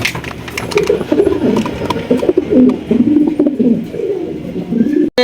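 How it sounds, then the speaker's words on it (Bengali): Racer pigeons coo and call in a loft, with overlapping low, throaty coos repeating steadily and close, under a busy backdrop of other birds and faint clatter. "এই যে ইতিমধ্যে ডাকাডাকি শুরু করছে"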